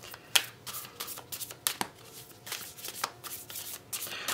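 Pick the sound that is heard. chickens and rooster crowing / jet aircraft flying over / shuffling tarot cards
shuffling tarot cards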